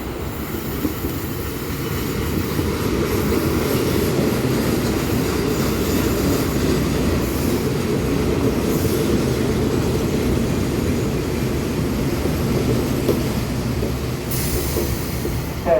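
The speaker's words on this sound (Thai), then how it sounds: "ตอนนี้ก็จะมีรถไฟเข้ามาจอดนะ เป็นขบวนรถธรรมดาที่ 209" A Thai ordinary passenger train, No. 209 Bangkok–Ban Takhli, rolls into Ban Moh station with a continuous heavy rumble and rattling wheels, steady and loud, with faint squeals toward the end and no voices.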